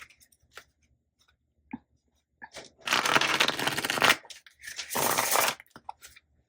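Cards drawn and shuffled from a deck during a reading: light scattered flicks and taps, then two louder riffling bursts of about a second each, close up and with no talking.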